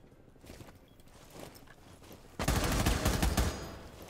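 Gunfire in Rainbow Six Siege: quiet footsteps and faint shuffling, then a loud, close burst of rapid automatic shots hitting hard and fading over about a second.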